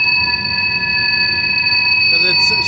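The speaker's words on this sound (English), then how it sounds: "you can see the engine still climbing up the hill, and then the rest of the train over that way" A freight train climbs Horseshoe Curve near Altoona, steady rumbling with sustained high-pitched wheel squeal ringing throughout, loud and fairly close, with a brief voice near the end.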